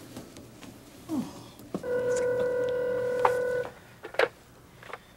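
A steady electronic telephone tone sounds for about two seconds, with clicks and handling noises before and after, close and clear.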